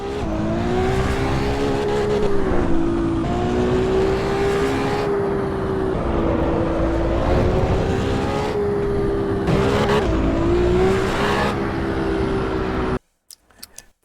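A Ferrari 296 races in Assetto Corsa EVO, its engine droning loud and steady with rising and falling revs through corners for about thirteen seconds, then cutting off abruptly to near silence with a few faint clicks.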